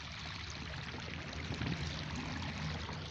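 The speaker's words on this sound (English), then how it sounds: "You probably hear the water behind me running." Steady rushing of running water outdoors, a constant broadband wash that stays level throughout without any voices over it.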